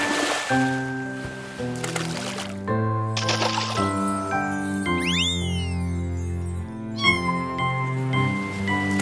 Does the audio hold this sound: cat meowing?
yes